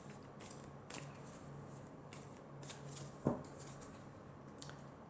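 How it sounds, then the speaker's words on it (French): Tarot cards are drawn from a deck in faint, soft slides and light flicks, with one sharper snap near the middle, set against a quiet room hiss. "je vais prendre encore 4 cartes."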